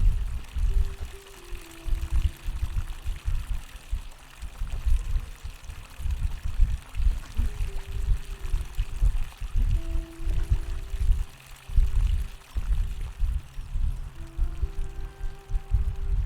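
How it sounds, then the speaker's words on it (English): Steady flowing water from the video game The Forgotten City, a continuous low rushing pour that holds at an even level throughout, with faint tonal game ambience behind it. "I found producing fresh water, but where could the water be coming from?"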